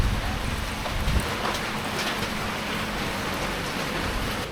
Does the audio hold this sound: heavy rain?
yes